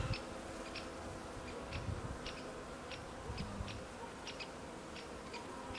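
Honey bees buzzing at a hive during an inspection, a steady dense drone with many insects close by, alone without talk.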